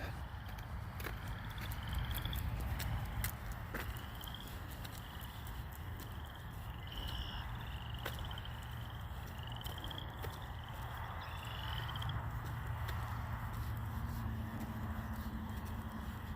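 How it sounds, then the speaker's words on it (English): Spring peeper frogs call from a wet wetland after overnight rain, a chorus of repeated high chirps at moderate distance over a steady low background rumble, with no speech. "You can hear the little peepers, the frogs that are waking up from the mud over here."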